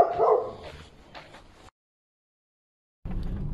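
A dog barks outdoors with other local dogs, a few loud barks and yips up close at the start, then a break before more barking resumes at the end.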